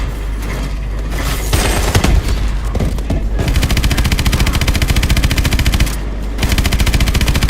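Rapid automatic gunfire in Call of Duty: Advanced Warfare, loud and close, with dense sustained bursts broken by brief pauses and a few heavier booming shots early on.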